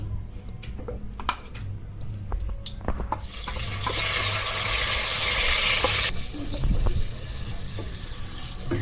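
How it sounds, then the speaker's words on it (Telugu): Ginger paste with curry leaves hitting hot oil for a chicken curry, a loud burst of sizzling spitting that lasts about three seconds amid clinks and stirring noises. "ఇప్పుడు అల్లం పేస్ట్ వేసుకుందామండి."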